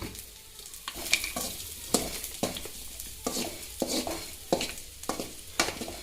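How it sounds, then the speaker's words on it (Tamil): Onion, curry leaves and chillies sauté in hot oil, a soft sizzle broken by regular scraping stirs and light clinks of a spatula against the pan, repeating roughly every half second to second. "வெங்காயம், கருவேப்பிலை, மிளகாயெல்லாம் போட்டு நல்லா வதங்குற மாதிரி நல்லா தொலாவி கொடுக்கணும்"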